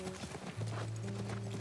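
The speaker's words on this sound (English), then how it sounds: "That's our horse." A horse in a post-apocalyptic action video game clops its hooves in quick rhythmic steps close by, then lets out a drawn-out whinny that carries through the rest of the moment, with no talk over it.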